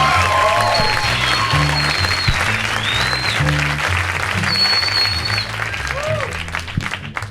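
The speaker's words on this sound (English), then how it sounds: "How about a round of applause for Chuck?" A comedy club crowd at a 1999 stand-up show breaks into a loud round of applause, and a bright musical accompaniment with sliding whistle-like tones plays over the clapping before it thins toward the end.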